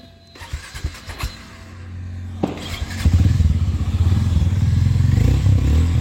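A Harley-Davidson X440 motorcycle fires up after a few mechanical clicks, then its engine settles into a loud, close, steady idle with a throbbing rumble.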